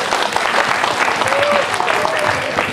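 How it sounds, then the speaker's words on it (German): Audience applauding a young singing contestant at a talent competition elimination round, a dense, steady burst of clapping filling the whole stretch, loud and close, with faint voices mixed in. "Einen Applaus für unsere Contestants"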